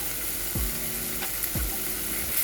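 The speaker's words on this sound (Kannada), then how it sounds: "ಅರಿಶಿನ ಪುಡಿ ಹಾಕಿ ಚೆನ್ನಾಗಿ ಫ್ರೈ ಮಾಡಾತೀನಿ ರೀ." Hesar kal cooks in a pan with salt and turmeric powder, giving a steady, close sizzle of frying with two soft scraping stirs of the spoon against the pan.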